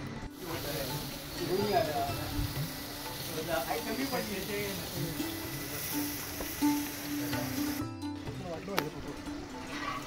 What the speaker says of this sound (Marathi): व्यवस्थितरित्या ते कांदा परतून घेत आहेत टोपामध्ये